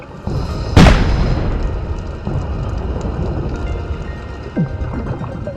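A person cannonballs into the sea at a house reef off Dominica: one sharp, heavy splash-boom near the start, then a long wash of churning water and bubbling, with a smaller splash later.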